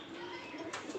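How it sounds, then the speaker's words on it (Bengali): A racing pigeon gives a soft, brief coo nearby, faint and low against a quiet background. "কবুতরটাকে আপনাদের একটু দেখাই ধইরা"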